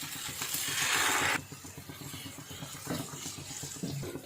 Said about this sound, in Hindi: और इसमें पानी ऐड करेंगे